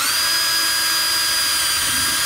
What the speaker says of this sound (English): And when I send the drill bit through,